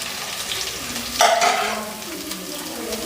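Tomatoes tipped into a frying pan of sizzling ginger give a sudden loud burst of sizzle and stirring that swells for a moment, then eases back into a steady frying hiss.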